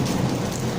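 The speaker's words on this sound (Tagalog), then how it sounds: "Super lakas ng ulan." Heavy rain pours in a dense, steady roar of drops striking surfaces nearby, unbroken and loud throughout with no voices over it.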